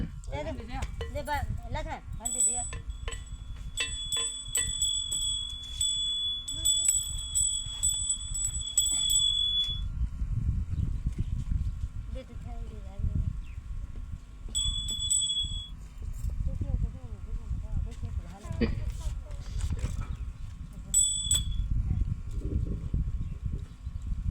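Small bells ring in short repeated bursts over a low murmur, pausing and resuming several times.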